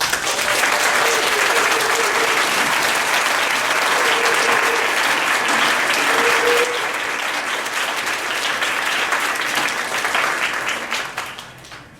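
A crowd claps enthusiastically in sustained applause, with a few shouts and cheers, fading out toward the end.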